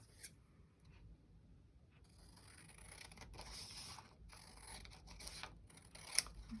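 Scissors cut a strip of green paper, quiet snipping and blade clicks with paper rustling, close and faint, no voices.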